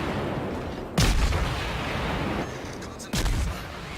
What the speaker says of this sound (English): I'm opening fire on Karlsruhe that just bumps into an island.